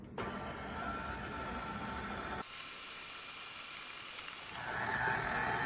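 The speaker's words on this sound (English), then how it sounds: "Let's take it to the MVP of COVID lockdown, the mixer." An electric stand mixer kneads pizza dough for a crispy pan pizza, giving a steady, loud motor whir with a rattling mechanical texture that shifts in tone partway through and swells near the end.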